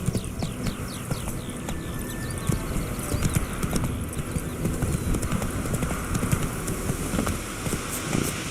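Roach the horse's hooves clip-clop at a steady trotting rhythm in The Witcher 3 near White Orchard, close and continuous throughout.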